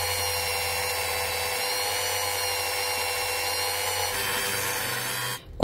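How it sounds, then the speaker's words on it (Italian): A Dremel rotary tool drills into a resin bow earring, giving a steady, loud, high-pitched whine held evenly throughout before it cuts off abruptly at the end. "Prendiamo sempre il Dremel,"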